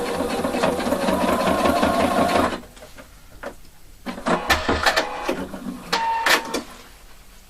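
A sewing machine runs in a fast continuous buzz for a couple of seconds while stitching an elastic waistband at the center back seam, then stops, followed by shorter bursts of stitching and handling clicks.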